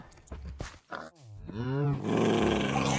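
A dog mob in Minecraft growls in a low, rough snarl that swells and rises into a louder, sustained roar-like rumble, heard alone and up close.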